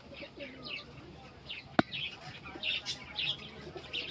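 Pigeons at a pigeon sale give soft cooing and chirps, close by and intermittent, with one sharp click partway through.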